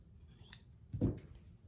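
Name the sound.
scissors cutting off excess quilt fabric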